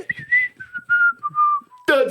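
A person whistles the song from the Disney cartoon Robin Hood, a close, clear melody of several sustained notes and short phrases, with a faint voice at the end.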